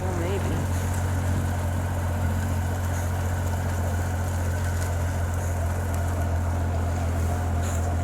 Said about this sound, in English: This is just idling, by the way. This is the speed it idles at.